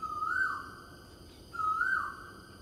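Outdoors in Singapore, a bird gives two clear, whistled calls, each sliding slightly in pitch, separated by about a second of quiet background.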